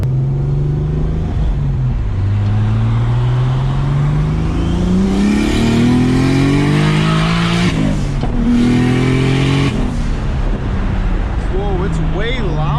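A loud turbocharged, forged BMW M50 engine revs and drones continuously on a two-step launch control, pitch rising and falling through repeated pulls, with a voice talking over parts of it.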